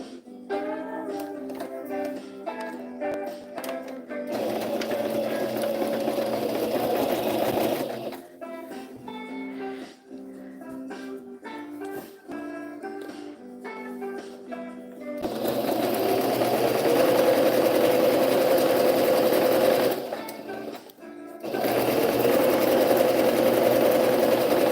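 Sewing machine stitching a seam on a vintage pillowcase, running in long steady bursts with brief pauses between, the motor hum loud and close with a fast even needle rhythm.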